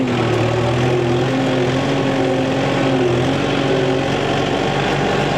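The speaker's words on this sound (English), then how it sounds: "if you can't tell, I'm going down there mowing hay" A hay mower engine runs steadily and fairly close, a continuous droning hum with a rough low rumble that holds an even level throughout, with no voices over it.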